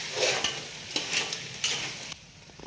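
A paste of onion, garlic and coconut is stirred into a frying crab gravy. Three close scraping stirs rise over a soft, constant sizzle.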